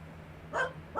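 A dog gives two short barks at close range indoors, the second cutting off at the end, with a steady low hum underneath.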